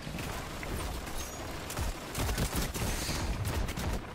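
Enemy gunfire in the shooter game Destiny crackles as dense, rapid bursts of shots, loud and nearly continuous throughout and growing heavier toward the end.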